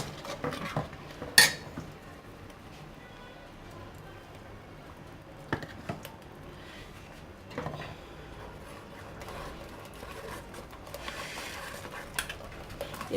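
Yogurt and gram flour mixture for pakora kadhi being mixed in a pot, with scattered clinks and scrapes of a utensil against metal, one sharper clatter near the start, otherwise soft and fairly quiet.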